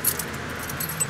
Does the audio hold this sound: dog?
no